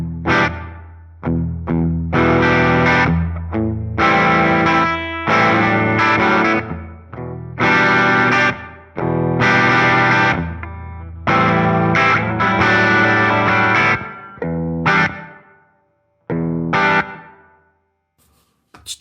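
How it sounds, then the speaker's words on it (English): Large room reverb from a Fender Tone Master Pro at default settings on electric guitar: bursts of strummed chords separated by short pauses, each leaving a brief roomy tail, loud and alone, ending in a few sparse hits. "Here's the large room reverb at default settings."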